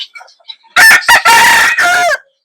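A backyard chicken gives a loud, close call in several bursts, preceded by a few faint chirps and clucks, over about two seconds.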